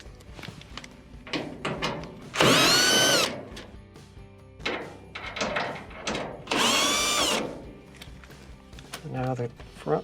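A power drill fitted with a T20 Torx bit backs out two screws on a Whirlpool dryer, giving two loud whirring bursts separated by pauses of handling noise, with someone speaking in between.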